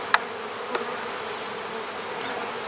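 Steady, close hum of honey bees buzzing inside a crowded hive with bees on all ten frames, continuous and even, with a couple of faint clicks near the start.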